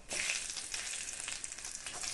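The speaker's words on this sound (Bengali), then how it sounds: "জিরে ভালোভাবে ফুটে উঠলে দিয়ে দেব দুটো চেরা কাঁচা লঙ্কা" Crackling sizzle of chillies hitting hot oil with cumin seeds, busy high-pitched spitting and popping throughout, close up with no talk.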